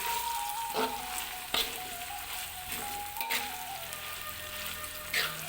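Ground chili paste hits hot oil in a frying pan for gulai tambusu and sizzles with a loud, even frying hiss, with a few stirring scrapes and clatters.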